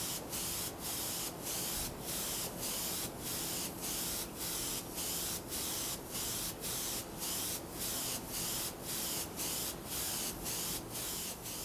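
A simple spray gun applies lacquer finish to wood, giving a steady loud hiss pulsing in rhythmic passes as it sweeps back and forth, continuous with no talking.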